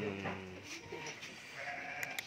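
Garut sheep ram, four-horned, bleating once near the start in a brief, harmonic cry at close range, followed by quieter farmyard sounds and a couple of sharp knocks at the end.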